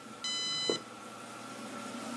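A single electronic beep from a detector sensing a table saw, high and steady for about half a second, rings out clearly over a quiet room hum.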